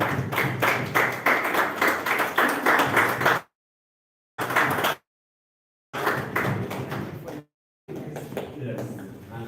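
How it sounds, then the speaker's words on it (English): Audience claps for panelists at an African art festival open house in Abuja, in bursts of clapping broken by sudden silent gaps, with voices mixed in. "please, a big round of applause for my co-panelists"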